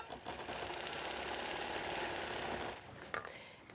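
Sewing machine stitching in the ditch on a baby quilt, running in one steady, fast, rattling burst for under three seconds before stopping, followed by a few faint clicks.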